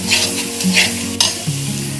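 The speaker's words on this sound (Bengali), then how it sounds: "আমি মশলাটাকে ভালো করে কষিয়ে নেব" A spice paste for a prawn-head curry fries in a pan with a steady sizzle. A spatula stirs it in short scraping strokes, with one sharper knock against the pan partway through.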